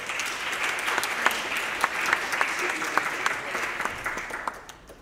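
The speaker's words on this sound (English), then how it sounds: "Please give a nice warm round to one of my heroes, Bill from Avanti Display" An audience gives a warm round of applause to welcome Bill from Avanti Display on stage, dense sustained clapping with a few sharper claps standing out, tapering off toward the end.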